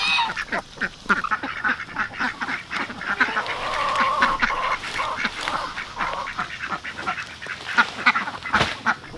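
Ducks grazing on leaves and lettuce, quacking and honking in repeated bursts close by, with scattered nibbling and rustling sounds between calls.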